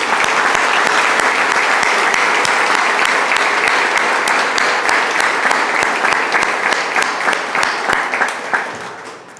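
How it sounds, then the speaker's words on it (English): Loud, sustained applause from a large crowd at a police chief announcement, dense clapping that holds steady and then tapers off at the end. "One more round of applause."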